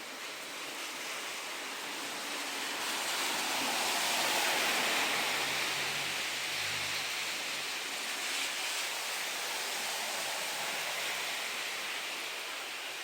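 Heavy rain pours steadily outside, soaking a veranda, a dense, continuous hiss with no gaps that stays loud and even throughout, with a faint low rumble partway through and no voices.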